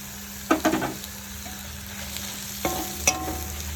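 Chopped onions fry in a pan for chicken curry, a steady sizzle running beneath a spatula that scrapes and clinks in a few short bursts near the start and again later, with no one speaking.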